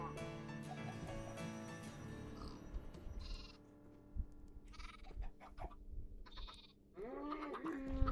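Sheep bleating in modded Minecraft (All The Mods 10), several short wavering bleats among other game animal sounds and background noise, fairly faint overall.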